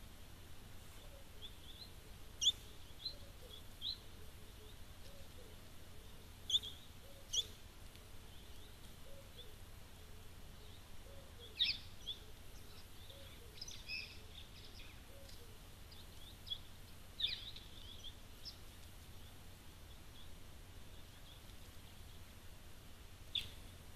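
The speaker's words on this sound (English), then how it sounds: "I can hear some grey-headed sparrows in the background here." Grey-headed sparrows chirp in short, scattered bursts at a waterhole, faint and distant over a steady outdoor hiss.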